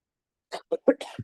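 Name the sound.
cough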